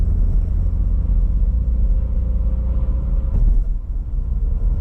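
Renault Twingo SCe 65 driven through city streets, a steady low engine rumble and road drone climbing gently as it pulls after a downshift, with a brief thump partway through.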